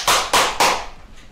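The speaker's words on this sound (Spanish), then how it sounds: "Me aplaudí demasiado fuerte, weón" Three hard hand claps in quick succession, loud and close, each a sharp broadband smack with a short decay, followed by a faint fourth tap near the end.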